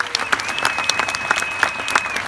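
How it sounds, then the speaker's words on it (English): Audience applause for a Rough Riders group at an outdoor Fourth of July event at Sagamore Hill, a steady wash of many hands clapping with scattered louder claps, fairly close and continuous throughout. "Give a round of applause for the Rough Riders here today."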